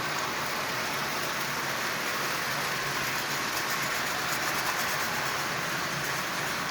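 A Marx 391 toy train locomotive from 1942, running at half power, pulls a string of tin litho cars, making a constant, even rolling whir and rattle that stays steady throughout.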